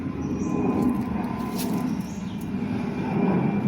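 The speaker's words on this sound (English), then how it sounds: "Plane overhead just taking off from Chiang Mai." A passenger airplane climbing overhead after takeoff from Chiang Mai, a steady broad engine roar heard from a quiet stretch of the Ping River, with no one talking.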